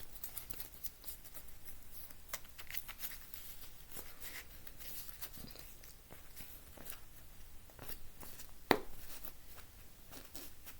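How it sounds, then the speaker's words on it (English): Quiet, papery riffling and soft flicks of One Piece trading cards being shuffled up close, with one sharper snap near the end. "So we're going to shuffle."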